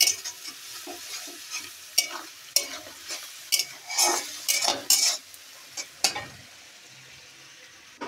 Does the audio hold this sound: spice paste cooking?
yes